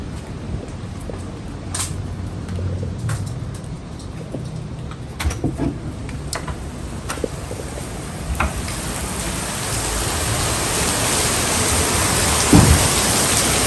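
Steady rain pours outdoors in a heavy, hissing wash that thickens toward the end, broken by scattered crackling drips and a few low thunder rumbles, with a sharp knock near the close.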